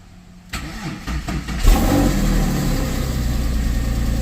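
Porsche sports car engine cranking briefly, then catching and settling into a loud, steady idle close by.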